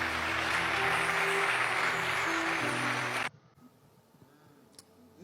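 Church congregation applauding in praise of the Lord: steady, loud clapping from many hands that cuts off abruptly partway through, leaving near silence with a few faint ticks.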